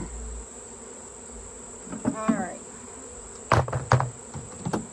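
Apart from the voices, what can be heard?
honey bees buzzing around hive during honey harvest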